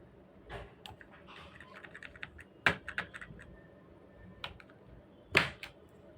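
Keys clack on a computer keyboard in irregular bursts, with a few louder sharp strikes standing out over soft background noise, no voices.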